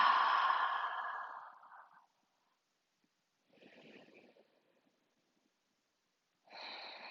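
A long, audible exhale during yoga breathing fades out over two seconds, followed by quieter breaths after a pause, close and alone without talk.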